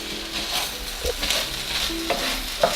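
Ground turkey being stirred in a hot pan, a soft sizzle underneath scattered scraping clicks of the utensil against the pan, close and moderately loud.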